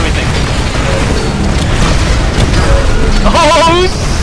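Salvo rockets explode in the shooter game Titanfall as a dense, continuous rumble of booms and blasts, loud and close, with synthetic tonal game effects rising near the end.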